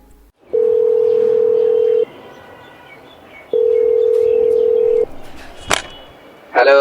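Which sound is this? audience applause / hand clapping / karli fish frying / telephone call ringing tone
telephone call ringing tone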